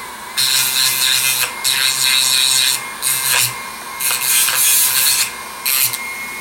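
Wire ends being ground with a small Dremel stone, heard as several close, harsh rasping bursts of grinding separated by short pauses.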